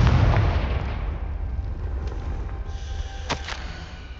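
The Confringo spell explodes in the Hogwarts Legacy video game, a loud, deep blast at the start fading into a long rumbling tail, with a few faint crackles near the end.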